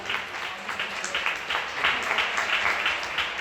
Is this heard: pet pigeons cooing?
no